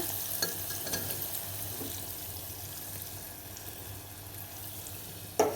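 Boiled prawns frying in a pan with salt, chili powder, turmeric, ginger-garlic paste and chilies give a low steady sizzle, with a few stirring scrapes and a louder clack near the end.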